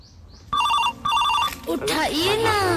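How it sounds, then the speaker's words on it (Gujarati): A telephone rings loudly in two short electronic bursts at the start of a comedy skit, then a voice takes over right after. "ફોન આવી જાય."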